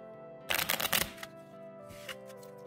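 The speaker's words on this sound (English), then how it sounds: "I'm going to take this deck of cards and I'm going to shuffle it in my hands." A Lenormand deck of cards being shuffled by hand, a quick burst of riffling clatter lasting about half a second, followed by quiet room tone.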